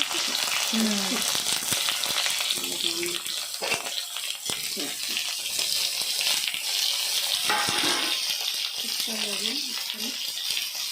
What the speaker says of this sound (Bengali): ভালোই ভাজা ভাজা হয়ে এসছে